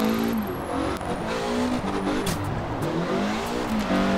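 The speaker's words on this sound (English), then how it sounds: "It's a throaty engine sound." A loud, throaty Mazda engine in the video game Forza Horizon 4 revs and roars continuously, its pitch climbing and dipping with gear changes, with a brief tire skid in the middle.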